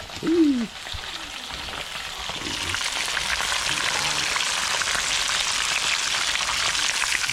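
Tilapia frying in a pan gives a steady, close crackling sizzle that builds after a brief voice at the start, then holds an even, rain-like hiss to the end.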